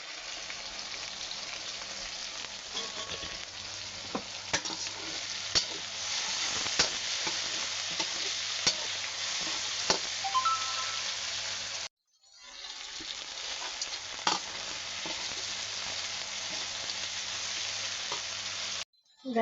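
Onions frying in a large pan for a big batch of beef curry make a steady, close sizzle with scattered sharp pops and crackles, briefly cut off midway and then resuming.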